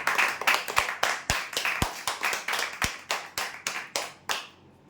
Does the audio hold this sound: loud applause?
yes